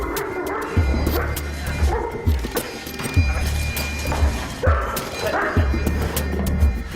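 Two muzzled RAID police dogs bark and yip repeatedly during an attack exercise, sharp muffled barks coming in quick irregular bursts close by, mixed with whimpers and scuffling thuds.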